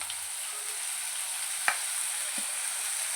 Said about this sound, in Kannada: ಮೀಡಿಯಮ್ ಆಗಿ ಫ್ರೈ ಮಾಡ್ಕೋಬೇಕು ತರಕಾರಿ ಎಲ್ಲ ಕ್ರಂಚಿ ಕ್ರಂಚಿಯಾಗಿ ಸಿಗಬೇಕು